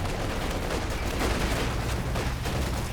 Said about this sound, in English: Major artillery coming down from VonIvan.